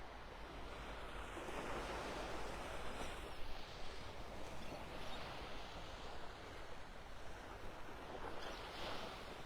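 Ocean surf washes continuously onto the beach at Delnor-Wiggins State Park in North Naples, Florida, a broad steady hiss and wash of waves with light wind noise, heard alone.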